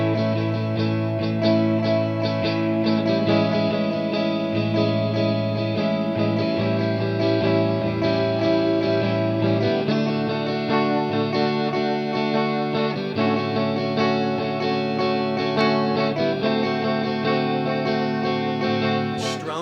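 Guitar strummed in a steady, busy rhythm, with chords changing every few seconds; bright, slightly effected tone, played alone with no talking.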